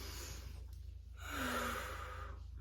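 A slow, audible deep breath drawn in and let out once as a calming technique against anxiety, close and quiet with no talking.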